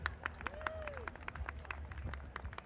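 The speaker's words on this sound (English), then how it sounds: "Can we have a round of applause for Monroe Carroll Jr.'s Children's Hospital at Vanderbilt?" Scattered outdoor applause and clapping from an audience at the Iroquois Steeplechase horse race, faint and distant, with sparse individual claps and a passing tonal sweep.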